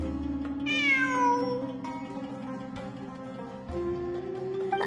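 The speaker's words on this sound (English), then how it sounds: "It really is a cat." In Genshin Impact, a cat gives one rising-and-falling meow early on. It sits over steady game music and ambience, and nobody talks.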